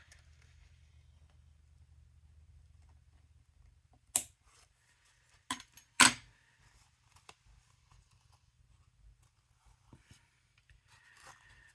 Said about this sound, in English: Where are all my little scissors?